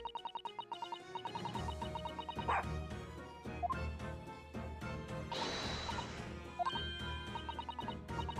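Toby the dog from The Great Ace Attorney 2 barks in a quick, repeated run of close, loud yips and woofs, set over a steady musical game soundtrack, with a brief crash-like burst near the middle.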